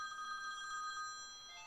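A phone rings with a steady electronic tone through most of the moment, fairly quiet and indoors, while someone works on a painting; no one speaks.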